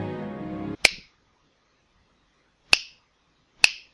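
Video game finger snaps: one sharp, loud snap cuts off a musical passage, followed after silence by two more isolated crisp snaps.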